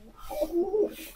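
A male pigeon kept in a basket gives a short, soft throaty coo, a couple of low rolling notes up close in a quiet room.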